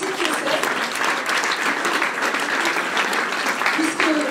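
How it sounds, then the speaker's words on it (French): Supporters of a municipal election campaign in Strasbourg applaud together, a loud continuous wash of clapping with faint voices and cheers mixed in. "je voudrais que vous vous applaudissiez tous pour la belle réussite que c'est"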